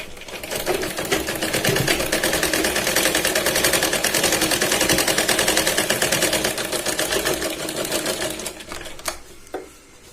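A sewing machine runs steadily, stitching the bottom edge of a katori blouse with a fast, even mechanical rattle for most of the stretch, then slowing and stopping near the end.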